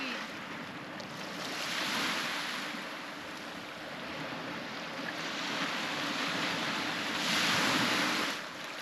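Wind buffets the microphone on a wild Australian coastline during fishing, rising and falling in broad gusts with a steady roar of surf and open air underneath, loud and continuous throughout.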